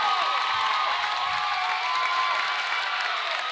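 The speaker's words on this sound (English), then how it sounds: "the extremely loud cheering crowd" A packed crowd at a Timberlake vs Kellogg high school boys varsity basketball game roars in a dense, continuous wash of cheering and shouting that holds steady and loud throughout.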